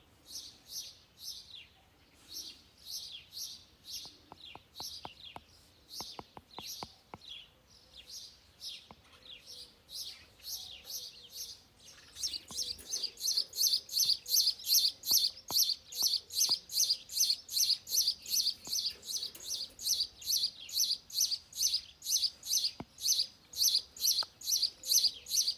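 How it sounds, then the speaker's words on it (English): A sparrow chirps in rapid repeated bursts nearby, sharp high calls that grow louder and more insistent midway as it flaps its wings and shouts, with a few faint clicks underneath. "That's a shouty little sparrow. He's like flapping his wings and shouting."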